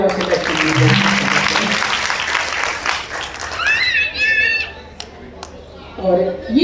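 An audience at a folk dance performance breaks into loud, dense applause that swells and then thins, with voices and brief bits of music heard over the clapping.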